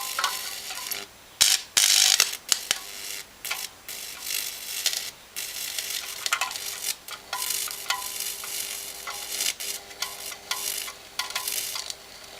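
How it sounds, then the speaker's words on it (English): High-voltage, high-current arc burning a hole in a Coca-Cola can, heard as close, harsh crackling and sizzling in irregular bursts that flare up loudly and then settle into a steady buzz, with no voices. "now I burn a hole in the can"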